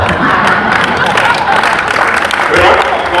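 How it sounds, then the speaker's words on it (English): Audience applause and cheering at a formal event as a company CEO is introduced, loud, dense clapping and crowd noise with voices mixed in throughout. "The round of applause, the CEO of Paintsiwaa Group, Honorable Kinaata."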